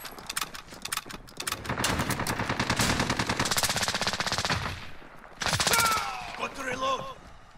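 Rapid automatic gunfire from Call of Duty: Modern Warfare rattles loud and close in a long sustained burst, breaks off briefly, then returns with more shots and a few chirping game effects.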